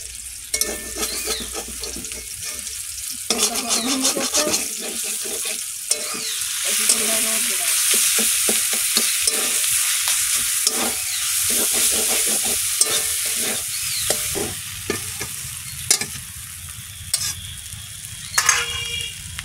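Fish freshly caught from a pond fries in oil in a pan, a loud close sizzle running throughout with repeated scraping and stirring strokes of a utensil against the pan.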